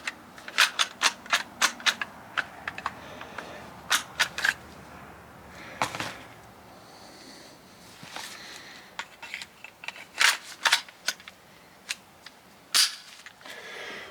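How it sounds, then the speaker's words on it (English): Gunshots from an X5 pistol at a shooting range, sharp cracks fired in quick irregular strings with short gaps, heard at a moderate distance over faint background noise. "no range session can be complete without shooting my X5"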